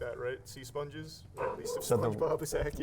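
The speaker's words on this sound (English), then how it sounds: "If you guys hear my dog in the background," A dog barks in the background of a home, a few short yips and woofs mixed under continuous conversation between several people.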